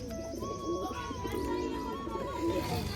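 Pigeons at a home loft coo in low, rolling murmurs, with a few faint chirps and a thin tonal whine in the background, fairly close and continuous.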